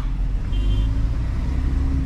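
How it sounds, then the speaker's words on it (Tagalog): Dense road traffic rumbles close by, a low steady drone of car and engine noise with no break over a couple of seconds. "Traffic na naman po."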